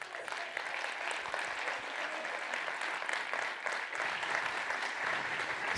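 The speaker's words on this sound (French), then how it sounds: "vous pouvez lui réserver un tonnerre d'applaudissements" Steady, full applause from an audience at the POINT.P renovation trophy award ceremony, a continuous dense roll of clapping from many hands, moderately distant and even throughout.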